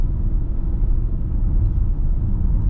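Inside a new Peugeot 3008 hybrid cruising on electric power: a loud, even low rumble of tyres and road with a faint whir, no engine note rising and no voices.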